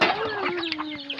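A chicken clucks close by on a rural hillside farm, a short run of quick, throaty clucks over one drawn-out tonal call, with no talking.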